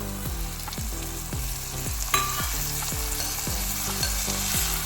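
Cleaned anchovies going into a hot frying pan with oil, a loud, close, crackling sizzle with a sharp burst as the fish hits the pan, and a regular repeating scraping rhythm throughout, no talk.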